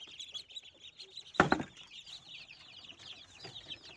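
Ten-day-old chicks for sale at a market chick shop chirp and cluck in a dense, busy chorus of high peeps, with one brief louder squawking burst partway through.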